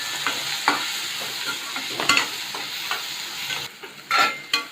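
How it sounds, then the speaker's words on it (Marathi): Finely chopped onion and seven or eight curry leaves sauté in a pan for a spicy soya chunk masala, giving a close, continuous sizzle. Sharp scrapes and clacks from a spoon stirring against the pan punctuate it, with no talking. "एक मोठा कांदा चिरला होता बारीक तो घालते आणि सात आठ कढीपत्त्याची पानं घालते आता आपण चांगलं परतून घेऊया"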